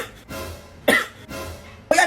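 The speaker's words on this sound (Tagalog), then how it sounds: "Umuubo lang naman ako." Two harsh coughs, each preceded by a breathy inhale, about one second apart, close and loud.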